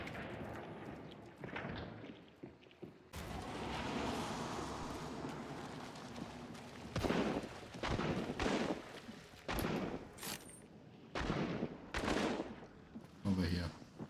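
Specter 1882 shotgun fire in the video game Hunt Showdown: sharp booming blasts scattered across the scene, several close heavy reports, with a voice talking at points.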